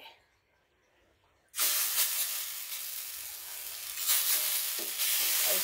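Poha dosa batter hits an oiled hot griddle over medium heat and bursts into a loud, sustained sizzle that continues steadily after a quiet start.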